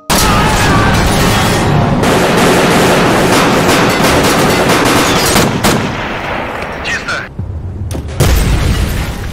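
Dense, loud bursts of gunfire and booming blasts fill the scene, rapid automatic fire mixed with heavy impacts, dropping briefly near the end before resuming.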